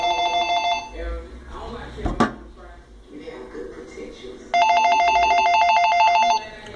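A telephone rings in a repeated trilling electronic bell pattern, heard at the start and again loudly later, while someone talks over and between the rings.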